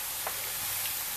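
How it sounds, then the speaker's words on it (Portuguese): Sarapatel sizzles softly in a pan while a spoon stirs it together with mint and coriander blended into a paste, a low continuous hiss with a few faint scrapes. "Agora, nós vamos misturar esse sarapatel com esses ingredientes."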